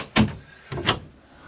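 A door on a Winnebago Sightseer 29R Class A motor home is worked twice, each a short, close thump-and-slide about half a second apart, with no talk over it.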